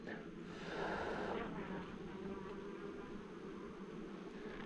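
Honey bees hum steadily around an open hive frame held together with elastic bands and stuck up by the bees during an apiary inspection, a dense, even buzz held at moderate level throughout.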